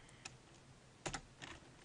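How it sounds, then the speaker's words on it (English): Several soft keystrokes on a computer keyboard, a single click, then a quick double tap and another short cluster, close and quiet against a faint background hiss with no talking. "what I'm typing now"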